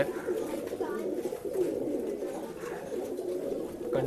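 A male Dhumar pigeon coos softly in a few low, rolling calls at a pigeon sale in Bangalore, over a steady murmur of background noise.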